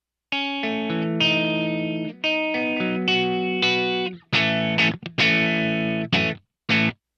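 Electric guitar through an amp with the EP booster off, cleaner tone with a touch of dirt: sustained strummed chords, several held then cut short, clear and upfront with no talk.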